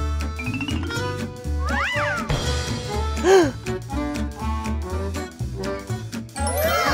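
A cat meows several times in rising and falling cries, fairly close, with faint jingling and background sounds between calls.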